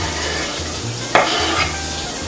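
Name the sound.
garlic sizzling in olive oil in a pan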